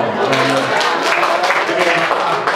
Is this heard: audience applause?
yes